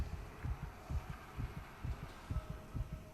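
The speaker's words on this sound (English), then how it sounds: "it's playing a heartbeat sound" Steady in-game heartbeat from the horror game Dead Space, a regular series of low, soft double thumps repeating about twice a second, fairly quiet with a faint hum underneath and no talk.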